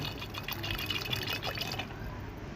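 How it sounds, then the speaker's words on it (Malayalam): Water poured into a lentil and snake gourd curry, a continuous close splashing stream that runs the whole time with no talking. "ഇത് വേവാൻ ആവശ്യത്തിന് 1/2 കപ്പ് വെള്ളം ഒഴിച്ച് കൊടുക്കണം കേട്ടോ"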